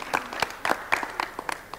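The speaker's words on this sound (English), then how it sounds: "Let's give him a round of applause." A studio audience breaks into applause to welcome an Olympic volleyball gold medalist, with scattered claps rising and falling in loose bursts close to the mic over a short stretch.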